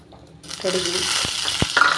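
Mustard seeds sputtering in hot oil while tempering sambar: a dense crackling sizzle that starts abruptly and keeps up steadily, with sharp pops scattered through it.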